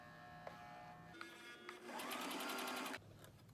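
A sewing machine runs in a steady whirring burst for about a second while stitching a frontal wig, with a few short clicks and brief motor starts before it, up close in a quiet room.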